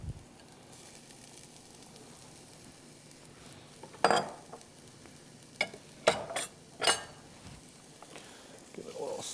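Peppers are stirred in a hot frying pan, with a soft continuous sizzle beneath scattered utensil scrapes and clinks against the pan.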